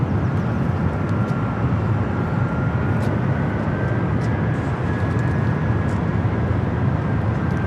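A Delta Boeing 767 begins its taxi at LAX with a steady, sustained jet engine rumble and a faint rising whine, constant and fairly near.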